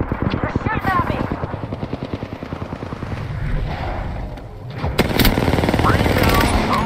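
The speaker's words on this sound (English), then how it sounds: "You're shooting at me." Gunfire in a video game shootout: rapid automatic bursts crackle loudly over a busy mix of other game sounds, then grow harsher and denser near the end.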